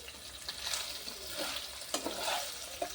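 Paneer frying lightly in a pan, a soft steady sizzle with faint scraping stirs and a few small crackling pops over three seconds, no voices.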